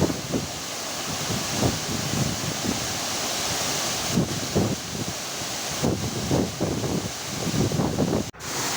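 The large Theopani Falls waterfall near Guwahati, Assam, gives a steady, dense roar of rushing water, heard up close with gusty wind buffeting the microphone throughout.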